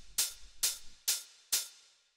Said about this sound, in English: then after that we have the main hi-hat